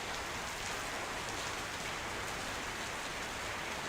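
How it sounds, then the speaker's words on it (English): Steady hiss of rain pattering on an Airbus A321neo in the flight simulator X-Plane 12, a dense, even wash of drops with no voices. "listen to the raindrops here, guys"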